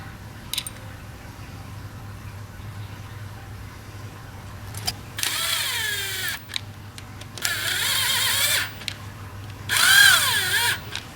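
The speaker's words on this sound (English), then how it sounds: "I'll run bolts in with the impact, but I will not tighten them with the impact." An impact wrench spins cam retainer plate bolts into an engine block during assembly, three separate whirring bursts of a second or so each with rising and falling pitch, close and loud over a quiet shop hum.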